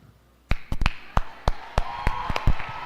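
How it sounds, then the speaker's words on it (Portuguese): Scattered handclaps from a church congregation, a handful of sharp, irregular claps with no steady rhythm, moderately close in a reverberant hall. "Aplauda de verdade, com vontade."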